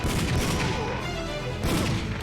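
Gunfire from a Namco arcade game, CD-quality audio: a dense, loud barrage of booming, impactful shots with crashing bursts, continuous throughout and with no voices.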